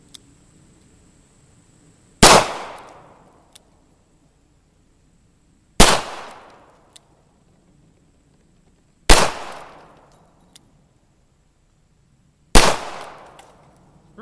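Four loud, sharp revolver shots from a Taurus 605 .357 Magnum at close range, evenly spaced about three seconds apart, each with a short decaying ring and near silence between.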